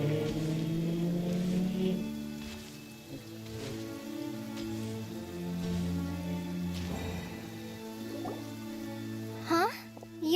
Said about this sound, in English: Raining, okay.